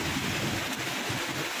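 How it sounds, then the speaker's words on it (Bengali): Heavy rain pours down on a street in a dense, continuous roar, with thunder rumbling underneath during a lightning storm. "প্রচণ্ড জোরেই বৃষ্টি পড়ছে"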